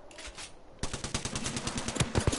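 Rapid automatic gunfire in the shooter video game Apex Legends, a loud, dense burst of closely spaced shots running steadily after a brief softer opening, with no talking.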